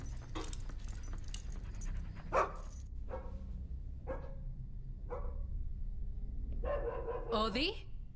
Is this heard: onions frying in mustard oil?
no